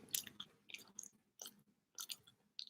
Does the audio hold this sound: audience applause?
no